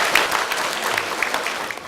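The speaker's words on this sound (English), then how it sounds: "give the Asthma Foundation a big round of applause to say thank you" A primary school audience applauds to thank the Asthma Foundation visitors at Gilcomstoun Primary School, giving a steady, dense wash of clapping throughout.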